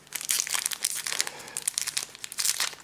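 A Pokémon card booster pack crinkles and rustles loudly and close up as it is torn open, with continuous crackling bursts of plastic foil and no voices.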